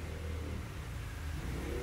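A Yamaha NMAX scooter engine hums and revs steadily at close range, a low continuous drone with slight rises in pitch.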